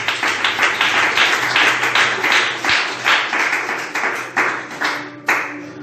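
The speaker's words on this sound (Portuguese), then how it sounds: "Bata aquelas palmas" Rhythmic hand clapping from a church congregation, steady loud claps repeating through the whole stretch with a faint voice underneath and a sharper burst near the end.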